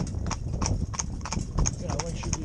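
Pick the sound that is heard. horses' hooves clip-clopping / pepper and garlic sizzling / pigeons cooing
horses' hooves clip-clopping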